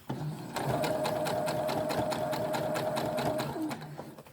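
A domestic sewing machine stitches through thick denim layers, its needle hammering a fast, steady rhythm with a motor whine for about three seconds before slowing to a stop, close and clear.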